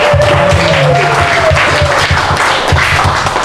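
Guests at a Christmas party at a restaurant clap together in a loud, dense burst of applause, with a faint tone running briefly through the noise.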